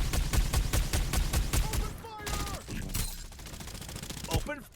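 Rapid automatic gunfire in the video game Farlight 84, a fast rhythmic burst of shots up close followed by a few scattered reports under game sounds, with players talking briefly over it.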